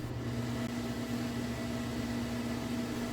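Under load, the cooling fan of an ATI Radeon HD 4870 graphics card whirs in a steady, louder airy rush with a distinct tonal hum, unbroken for the whole stretch.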